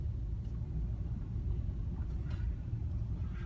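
A car rolls slowly into a gravel lot, with a steady low engine and tyre rumble from inside the cabin and a few faint higher crunches, with no speech.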